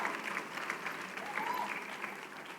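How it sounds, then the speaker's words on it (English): An audience at a women's leadership awards event gives a steady round of applause, a soft, even wash of many hands clapping that stays level throughout. "Please give her a big, thunderous round of applause."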